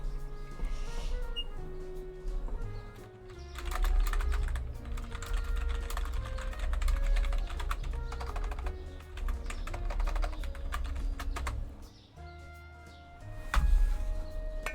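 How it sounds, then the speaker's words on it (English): Someone types on a computer keyboard, a close, steady clatter of key presses in bursts and runs, with a lull near the end, over faint background sound. "I hope you guys enjoy the sound of my keyboard."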